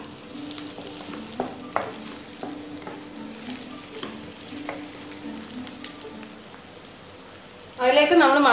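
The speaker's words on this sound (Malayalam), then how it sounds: "ഇപ്പം നമ്മുടെ സവാള നന്നായിട്ട് വഴറ്റി വന്നിട്ടുണ്ട്." Onions sautéing in a pan for chicken curry, a steady soft sizzle with intermittent stirring scrapes under a voice talking, ending in a louder burst of frying as something is added.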